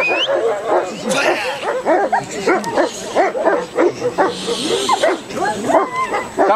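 Dogs bark rapidly and repeatedly during a dog training session, producing a dense run of sharp, close barks and yips with some whimpering, loud and continuous.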